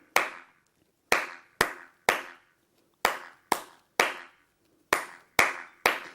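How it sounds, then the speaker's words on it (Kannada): A single person's sharp, close hand claps made with cupped palm and fingers, eleven distinct slaps in an uneven rhythm with brief silences between them, each ringing out cleanly. "ಈ ರೀತಿ ಕ್ಲಾಪ್ ಹತ್ಬೇಕು"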